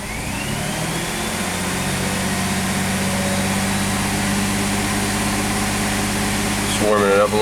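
A Chevy S10 Blazer V6 idles steadily while warming up, its engine drone and faint whine holding an even level throughout, with a brief disturbance just before the end.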